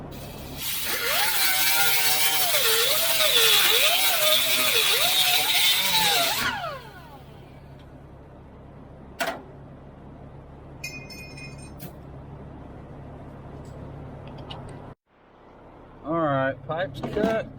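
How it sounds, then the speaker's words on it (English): Cut-off wheel slicing through old air conditioning pipes on a vehicle during a Vintage Air kit install: a loud, steady high-pitched grinding whine for about six seconds that winds down, followed by a few clinks and a voice talking. "I'm going to take a Ziz wheel, and I'm going to whop that thing off"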